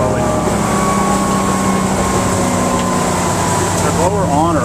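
A boat engine on a sea trial drones steadily at low revs, joined by a constant mechanical hum and hiss, with a few brief voices over it near the end.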